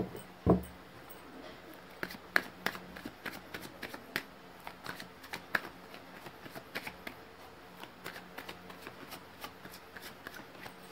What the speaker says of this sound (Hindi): मैंने कर ली है कार्ड्स की शफलिंग